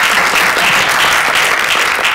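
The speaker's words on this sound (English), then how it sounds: "I thought we should give a round of applause for that." Audience applause at a business panel event on leadership in marginal constituencies, a steady, dense wash of many hands clapping that fills the whole stretch at close range, with no voices over it.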